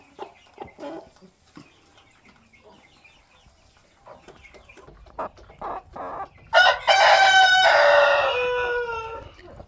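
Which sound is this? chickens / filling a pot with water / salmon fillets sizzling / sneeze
chickens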